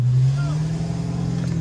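A Dodge SRT 392 with a catless exhaust idles loudly close by, a deep steady rumble that swells slightly, while people talk over it.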